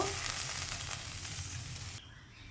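Water hits a hot pan of ground ginger-cumin paste while a mustard-poppy pomfret fish curry cooks, giving a loud, close, hissing sizzle that runs for about two seconds and then abruptly drops to a quieter simmer.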